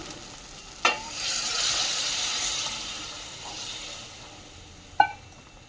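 Hot water poured into spiced masala frying for vegetarian Kashmiri paneer, a sharp sizzle bursting up and then a soft hiss of steam fading over several seconds, with a metal clink at the start and another near the end.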